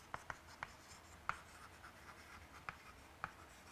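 Chalk or marker strokes on a board during a lecture on chemical and interfacial free energy, a series of short, sharp taps and scratches spaced irregularly over a quiet room, faint and close.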